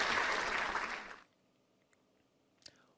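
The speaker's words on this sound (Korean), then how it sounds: "사랑과 축복의 박수를 보내드립시다" Children at a church worship service give a short round of clapping that is loud and dense for about a second, then stops abruptly into near silence with only a faint tap afterward.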